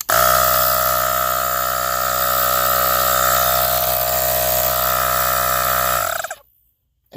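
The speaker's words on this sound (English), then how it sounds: "It sounds just like a regular floor model big tank compressor." A small portable air compressor runs with a loud, steady, high-pitched mechanical drone up close, then cuts off abruptly near the end, leaving brief silence.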